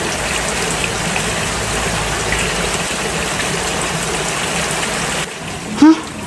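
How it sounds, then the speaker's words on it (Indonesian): Rain falls steadily in the Sakura School Simulator video game, a continuous rushing hiss that briefly dips and swells near the end. "Hujan."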